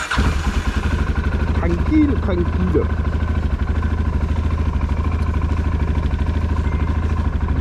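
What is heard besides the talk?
motorcycle or quad engine as the ride starts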